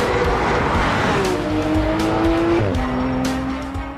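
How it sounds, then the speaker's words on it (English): A Porsche 911 GT3 RS taking fast bends on a racetrack: a loud, close, high-revving engine holds a strained tone with a downshift midway and tyre squeal through the corners. "A right-hand bend, I take it pretty fast, and then move right into a left-hand curve."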